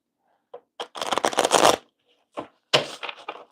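Tarot cards are shuffled by hand in quick riffling bursts, two clusters of crisp flapping and snapping close up, separated by a brief pause, with no talking.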